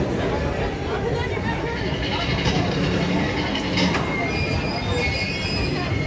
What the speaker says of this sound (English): Maybe that's our train about to pull into the station right now.